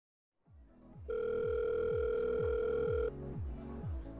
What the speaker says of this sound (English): The phone started going off again